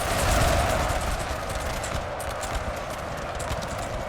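Cavalry charging with galloping horses in the video game Napoleon Total War, a dense, continuous rumble of many hooves with scattered musket fire in the background, loud throughout.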